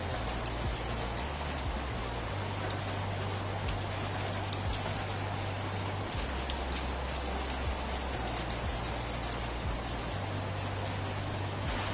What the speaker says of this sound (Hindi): अरे बारिश भी शुरू हो गई